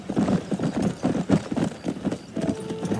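A horse in the video game Red Dead Redemption gallops with rapid, rhythmic hoofbeats close by, and a whinny rises near the end.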